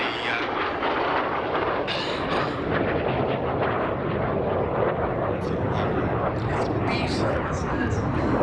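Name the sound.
MiG-17F Fresco jet making a low slow pass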